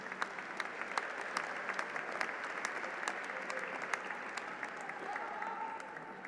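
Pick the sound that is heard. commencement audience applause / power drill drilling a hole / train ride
commencement audience applause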